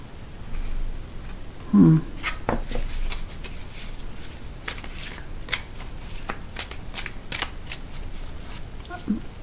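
A deck of oracle cards shuffled by hand, a run of quick papery riffles and flicks, close and fairly loud, with a faint voice murmuring in the background.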